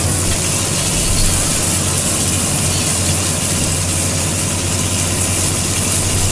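Combine harvester engine in Farming Simulator 22 while cutting wheat, a steady droning hum with faint squeaks, constant and fairly loud throughout, no voices.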